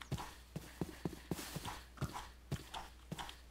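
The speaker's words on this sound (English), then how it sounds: "Ooh, there's some horses up here." Horses in the Minecraft video game, their hooves clip-clopping in a steady, fairly close rhythm of about ten sharp knocks over a soft background.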